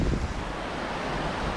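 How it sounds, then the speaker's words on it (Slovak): Rushing water of Šútovský stream below Šútovský waterfall in the Slovak mountains, swollen with spring water, a steady broadband roar close to the microphone with some wind buffeting, no voices. "Toto je prosím pekne Šutovský potok."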